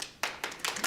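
A few scattered hand claps from an audience at a city planning commission meeting, roughly four quick, moderately faint claps in under a second.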